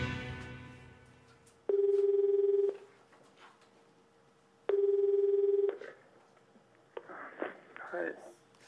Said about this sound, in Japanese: そして一行は次の挑戦者に電話。